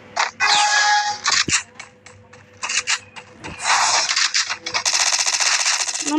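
Gunfire from the Free Fire battle royale game, with a few sharp shots followed by rapid automatic bursts, loud and close, among clicks and rustling game sounds.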